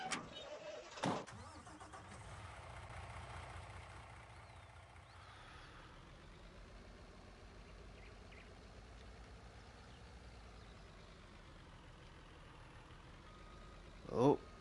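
A truck engine in Farming Simulator 19 cranks and starts, then settles into a steady low running drone for several seconds, with a sharp burst near the start and another near the end; a voice talks over it.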